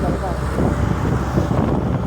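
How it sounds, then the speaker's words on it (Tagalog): Strong wind buffeting the microphone with a constant low roar and rumble, loud and close. "Malakas ang hangin at malamig na malamig."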